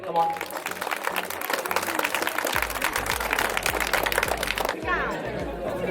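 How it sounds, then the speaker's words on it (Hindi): Applause from a crowd at an outdoor community health event in Theog, building into steady clapping with a low musical drone beneath and chatter around it, lasting several seconds. "जोरदार तालियां एक बार अपनी ले हो जाए"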